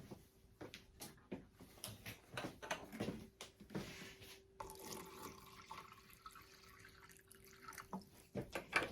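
Water trickles and splashes intermittently into a container, with small drips and clinks, quiet and close.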